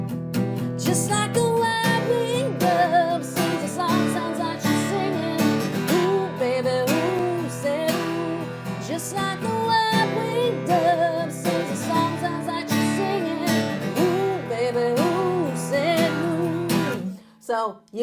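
Acoustic guitar strummed steadily through the chorus of a song in a lesson setting, a full, continuous rhythm of chords played close and loud, with a sung melody carried over it and the strumming breaking off at the very end.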